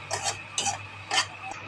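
Dry date powder is dry-roasted and stirred in a pan, producing three distinct scraping strokes in a steady rhythm, close and clear over a faint hum, with no talking.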